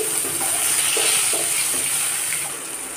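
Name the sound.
tomatoes frying in hot oil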